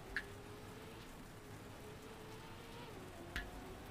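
Rain falls in the Trackmania racing game, a steady, even hiss of drops with a couple of brief, faint pops.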